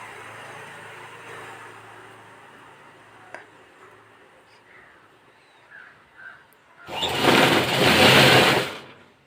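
A domestic sewing machine stitching a pattupavada, a traditional silk skirt, runs in a loud close burst of fast whirring near the end, after a quieter stretch of faint ticks and handling noises.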